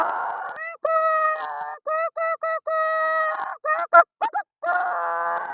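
A human voice mimics a caged hen calling after laying an egg, with loud, close, repeated cackling and clucking bursts in an uneven rhythm.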